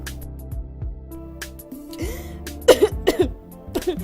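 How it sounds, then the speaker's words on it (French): A person coughs several times in short, harsh bursts, loud and close, preceded by quieter throat sounds and a low background hum in an indoor scene. "J'ai pas besoin de médicaments, c'est juste de la toux."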